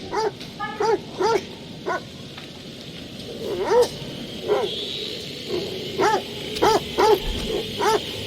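A dog in The Dark Pictures: The Devil in Me video game barks and yelps in short, repeated bursts, loud and close, with brief pauses and a low background drone between calls.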